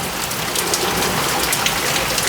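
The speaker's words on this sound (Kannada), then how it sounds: "ವಿಪರೀತ ಮಳೆ." Heavy rain pours down steadily in Ranebennur, Haveri, during a monsoon storm, a dense continuous hiss of rain on surfaces with no pauses, loud and close throughout.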